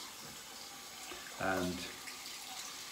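Tap water runs steadily over a shaving brush being rinsed at a sink, a constant close hiss, with a brief spoken word partway through.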